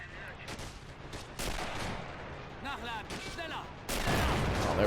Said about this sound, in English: now we're bringing in mortars